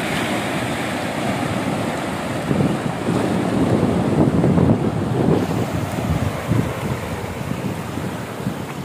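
Sea waves wash in continuously at Kondura beach in Khanoli, a loud, steady rumbling surf mixed with buffeting wind noise on the microphone, swelling in the middle and easing toward the end, with no voices.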